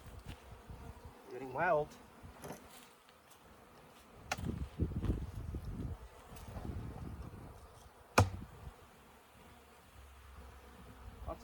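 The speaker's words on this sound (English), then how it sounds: "Lots of bees." Bees buzz intermittently around an open beehive during an inspection, with soft droning bursts, scattered handling knocks and rustles, and someone speaking briefly.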